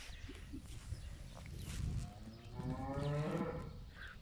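Long-horned cows near a village low in a deep, drawn-out moo rising out of outdoor background noise, with faint rustling and footsteps around them.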